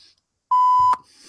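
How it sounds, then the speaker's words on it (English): A single loud, steady electronic beep tone at about 1 kHz lasting roughly half a second, ending in a short burst, with quiet background before and after and no voices. "I think we need a beep here."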